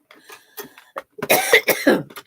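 Several coughs in quick succession, dry and fairly close, with short quieter bursts first and louder, harsher hacking near the end.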